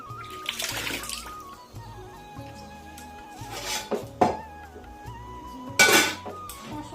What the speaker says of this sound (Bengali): শব্দ হচ্ছে মনে হয় জল খুলেছি